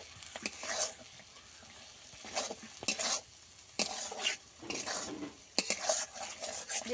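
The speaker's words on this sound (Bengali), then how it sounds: "এবার সব মশলা একসঙ্গে একটু কষিয়ে নেব" Spices including chilli powder and turmeric sauté in a pan for Bengali potol posto, sizzling steadily while a spoon stirs and scrapes in bursts, close and clear with no voices.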